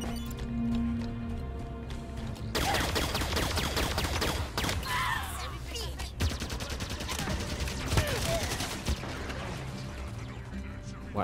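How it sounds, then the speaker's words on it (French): Turret gunfire in Halo 5: Guardians erupts in dense rapid bursts after a quieter start, loud and close, continuing in rattling volleys with clanking impacts while a player talks over it. "Il me tire dessus avec cette tourelle."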